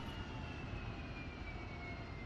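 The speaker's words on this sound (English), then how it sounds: "And now let's turn off the jet." The jet engine of an AV-8B Harrier in the DCS flight simulator gives off a faint, steady whine and rumble with a slowly sliding high tone as it shuts down.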